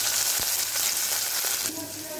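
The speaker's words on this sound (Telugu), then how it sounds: "క్యాబేజీ కొద్దిగా పచ్చిగా ఉంటుంది కాబట్టి దాన్ని కొంచెం ఎక్కువసేపు వేయించుకోవాలి" Thinly shredded cabbage fries in hot seasoned oil in a pan, giving a close, bright steady sizzle that drops slightly in loudness near the end, with no one speaking.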